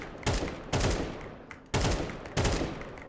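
Bursts of rifle gunfire from the video game Counter-Strike 2, four sharp volleys at uneven intervals, each a quick rattling string of shots that decays briefly before the next, with no talking.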